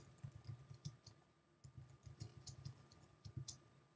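Soft keyboard keys click in quick irregular bursts, with a short pause midway, faint and close.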